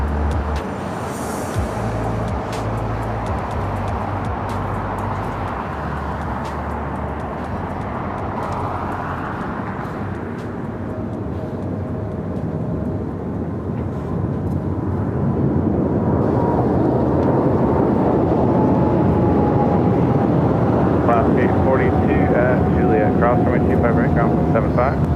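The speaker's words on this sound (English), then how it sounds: "Japan Airlines Flight 15, the 777-300ER. Next takeoff here on the south side of LAX" A Japan Airlines Boeing 777-300ER takes off from runway 25 right on the south side of LAX, its broad engine roar building steadily and growing louder over about 25 seconds, with a rising whine toward the end.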